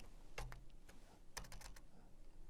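Quiet keystrokes on a computer keyboard arrive in scattered small clusters of clicks over a low room hum, with a pause between the bursts.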